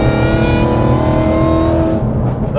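A supercharged Ford Mustang GT making 862 bhp revs hard, a loud, dense engine roar held steadily close up for a couple of seconds before easing slightly.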